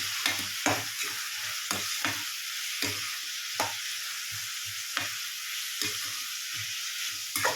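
Coconut and turmeric powder sautéing in a pan for kara chutney, a steady bright sizzle broken by repeated scraping stirs of a spoon, close and continuous.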